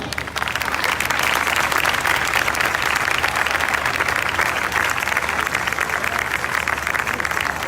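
Sustained, loud applause fills a revival festival worship gathering, a steady dense wash of many hands clapping at once without pause.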